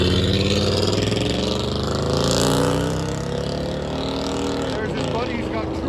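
A Chevy 1500 pickup with a 5.7L V8 and a loud aftermarket exhaust rumbles and revs at close range, a deep throbbing engine roar that swells and eases, with people talking over it.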